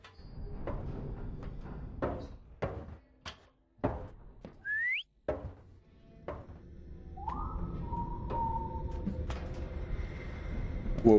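Whistling statues in the video game Lazaret produce a short rising whistle and later a falling, sustained whistle, faint amid footstep-like thuds and low ambient game noise.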